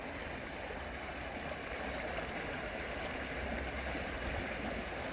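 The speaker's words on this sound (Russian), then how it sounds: "Покажу вам водопадик. Маленький водопадик вот." Steady rushing water from a small waterfall on the Psezuapse river in Lazarevskoye, Sochi, a continuous close splashing roar with no other sounds.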